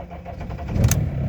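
A BMW E46 320d diesel cranking in the cold at about plus 10 degrees, a brief rhythmic starter churn building into the engine catching, close and fairly loud.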